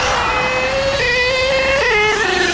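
A 3-speed HPI Savage XL K5.9 nitro RC truck runs, its small engine giving a high, buzzing whine that holds steady and then steps down in pitch as it shifts, loud and close.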